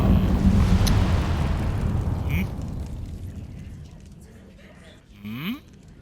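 A fire spell cast on branches in Hogwarts Legacy sets off a loud burst of crackling, whooshing flame that slowly dies down, with a short magical zip near the end and a voice briefly heard.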